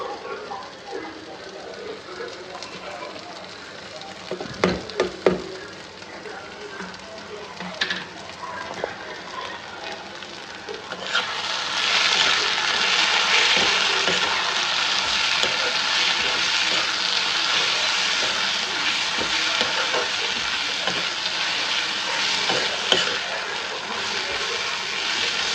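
Tomato with coriander, cumin, turmeric and chili powders fries in a pan, with quiet stirring and clatter at first, then a loud, steady sizzle that holds for the rest of the time.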